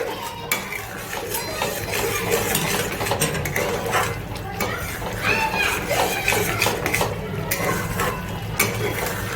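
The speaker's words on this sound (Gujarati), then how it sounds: "આપણે થોડી વાર હલાવી, ઘી એકદમ છૂટું પડે ત્યાં સુધી આપણે હલાવીશું" A spoon scrapes and stirs steadily in a kadai of ghee and fada lapsi (broken wheat) with soft sizzling, while voices carry faintly in the background.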